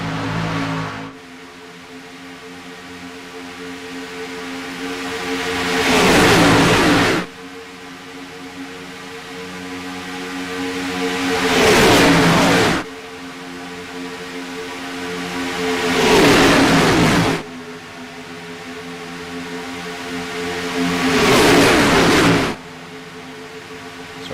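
Race cars in a stock-car racing video game pass in repeated loud surges, engines rising to a roar then cutting off abruptly, four waves of revving in a steady rhythm with no talk.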